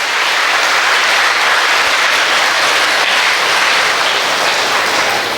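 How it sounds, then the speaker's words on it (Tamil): An audience at a district-level abacus event claps loudly for the children who danced Bharatanatyam, a dense and steady wash of applause with no break. "அந்த நாட்டிய குழந்தைகளுக்கெல்லாம் கைத்தட்டுங்க எல்லாரும்"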